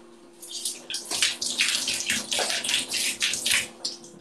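Shower water runs steadily and close by, a broad rushing spray that swells and surges in uneven pulses, with no voices over it.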